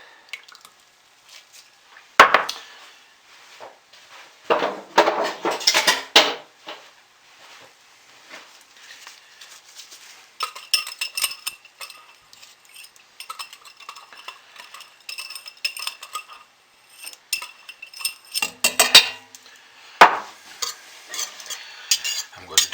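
Titanium dioxide white pigment being stirred into a container of liquid soap base, with scraping, swishing bursts of stirring separated by quiet pauses.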